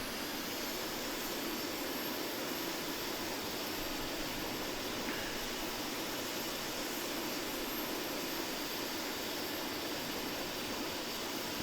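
A Leonardo M-346 Master jet trainer in Microsoft Flight Simulator holds a steady, loud broadband engine roar with a high whine as the throttle is pushed forward, continuous and unbroken throughout.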